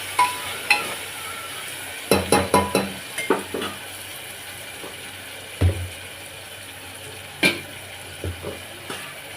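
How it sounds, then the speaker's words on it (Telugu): Tomatoes sizzle and fry in a pan for gongura mutton curry, with a steady background hiss broken by a series of sharp clinks and scrapes of stirring, some clustered quickly together and others spaced apart. "టమాటా కూడా వేసాక ఒకసారి కలుపుకొని ఒక వన్ మినిట్ వదిలేద్దాం అలాగా టమాటా మగ్గుతుంది"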